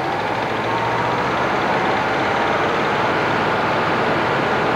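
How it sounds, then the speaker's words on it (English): A 1980 Chevrolet El Camino or Malibu engine runs after a carburetor job, a steady dense rumbling roar at close range, holding a fairly even pitch throughout. "We're just revving it up, you can hear it change."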